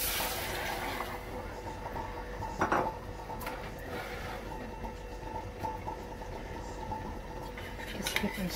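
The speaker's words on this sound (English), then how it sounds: "Just keep on stirring" A spoon scraping through cabbage roll mixture in a cooking pot, a steady busy clatter of stirring that runs throughout with a few sharper metallic knocks, fairly close.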